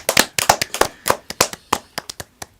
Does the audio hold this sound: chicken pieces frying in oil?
no